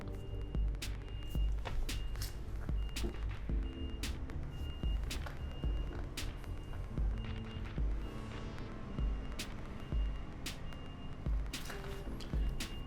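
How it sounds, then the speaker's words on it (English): Reversing beeps from a moving truck repeat steadily at a regular rhythm outdoors, with a deep engine rumble and traffic noise beneath, as people move in across from an apartment. "I'm sorry about the beeping."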